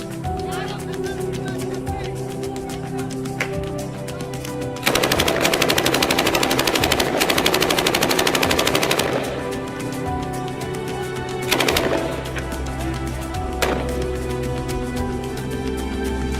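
Sustained bursts of rapid automatic gunfire in a war setting, loud and close, with a long run of shots and a shorter burst later over engine rumble and a voice speaking.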